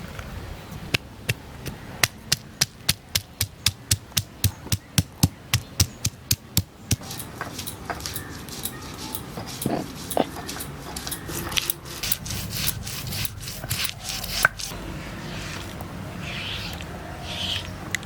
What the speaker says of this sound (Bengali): আদা রসুন একসাথে বেটে নেব।